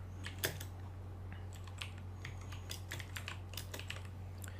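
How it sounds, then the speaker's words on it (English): Typing on a computer keyboard at a desk while working in Photoshop, a quiet run of uneven key clicks in short bursts, close and alone with no talk. "Now I select this text tool and this time I type"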